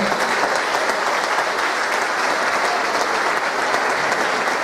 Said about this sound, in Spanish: yo pido nuevamente un fuerte aplauso para todos estos niños y jóvenes